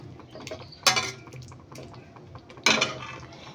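Chicken rezala, with milk, sugar, nutmeg, pepper and garam masala added, is stirred in a pot; a faint simmer is broken by two sharp utensil clinks against the pot, with no talking.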